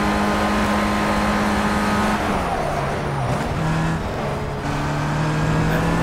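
A race car engine holds full throttle near the red line in the Project Cars racing game played with a Ferrari steering wheel, a loud continuous high whine that dips briefly around a shift and then climbs again.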